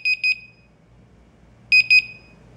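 A home security sensor alarm sounds two short bursts of rapid, high-pitched electronic beeping, each a quick cluster of tones, separated by a pause of over a second of quiet.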